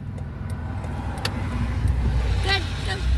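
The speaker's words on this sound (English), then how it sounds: "Truck coming this way quick." A truck on a road draws nearer and grows louder, its engine rumble swelling toward the end, with brief voices and small noises around it.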